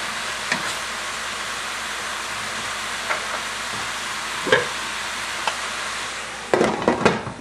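Mushrooms fry with onions in a pan for an Italian mushroom ragu, a steady soft sizzle broken by occasional scrapes and clinks of a spoon stirring, with a louder cluster of stirring knocks near the end.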